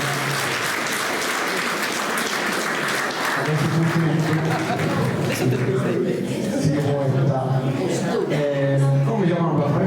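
Applause from a gathered Italian congregation honoring a man named Francesco, dense clapping that grows fuller midway and mixes with chuckles and murmuring voices.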